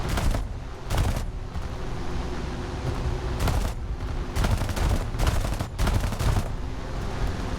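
Bursts of machine-gun fire in a War Thunder aircraft dogfight, several loud rapid volleys spread across the clip with short gaps, over constant engine drone.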